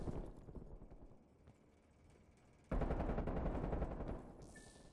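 Sniper gunfire in a video game, loud rapid cracking shots bursting in sharply after a quieter stretch, continuing densely before easing slightly near the end.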